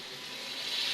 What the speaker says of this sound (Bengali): এখন আমি ঝোল দিয়ে দিব, নেড়ে চেড়ে কষিয়ে নিচ্ছি।